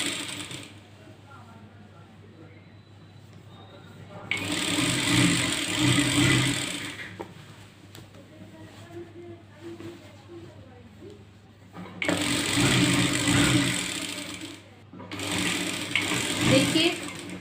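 A sewing machine stitches a Patiyala salwar in three loud whirring bursts close by: one long run, then two shorter runs separated by a brief stop, with quieter handling sounds in between.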